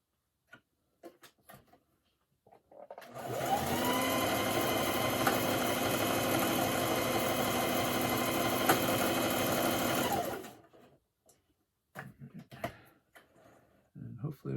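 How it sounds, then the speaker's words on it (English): Electric sewing machine stitching a pinch into the front of a fabric mask hood, running in one steady continuous burst of about seven seconds, fairly loud and close, with quiet handling noises before and after. "I'm going to sew this little pinch on the front"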